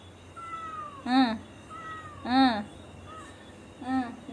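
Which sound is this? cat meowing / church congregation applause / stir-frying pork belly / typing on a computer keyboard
cat meowing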